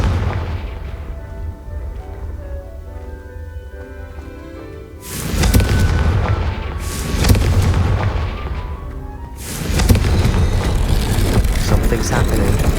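The Confringo fire spell goes off in the video game Hogwarts Legacy: after a quieter stretch, two loud booming blasts burst out several seconds apart, each trailing off into a rumbling roar.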